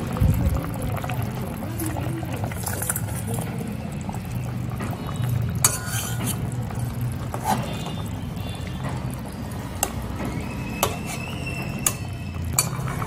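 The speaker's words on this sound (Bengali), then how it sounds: "মাছগুলো ভালো করে ঝোলের মধ্যে ডুবিয়ে দিলাম আর অল্প একটু জল দিলাম" Water poured into a simmering katla fish curry with fried fish pieces, a steady liquid pour and bubbling mixed with occasional utensil clinks, close and moderately loud.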